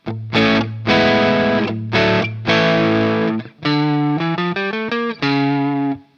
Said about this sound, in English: The full distortion.